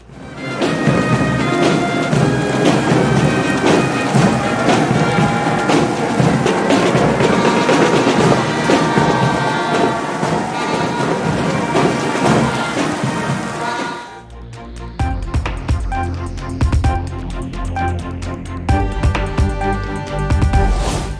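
Pouring rain falls on an outdoor national day parade in Mauritius, a dense, loud, steady hiss that shifts midway into a rougher, lower rumbling texture, with no voices heard.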